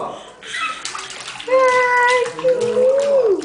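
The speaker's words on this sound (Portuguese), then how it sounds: "Isso, espirra tudo água." A child splashing water in a bathtub at bath time, with sloshing and splatters up close while a voice and an adult's voice are heard over the splashing.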